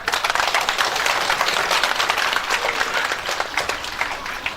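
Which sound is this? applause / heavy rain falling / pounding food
applause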